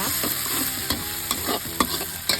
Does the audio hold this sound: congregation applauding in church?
no